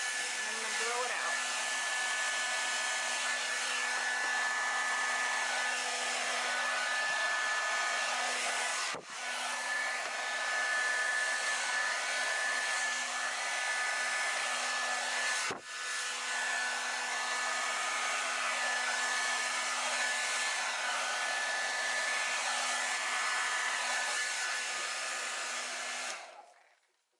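A hair dryer blowing steadily across wet acrylic pour paint in a Dutch pour painting, a loud continuous whoosh lasting close to half a minute with two brief dips before it switches off.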